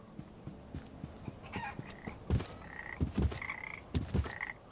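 Frogs croak in the video game Papo & Yo: a series of sharp, rhythmic croaks and ribbits, growing louder toward the end, heard alone without speech.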